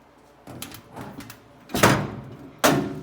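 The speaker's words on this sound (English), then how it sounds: "The lid closes easy." Several hard clunks and bangs of a Snap-on road box tool box lid closing, the last two louder and sharper, with soft rattles between them.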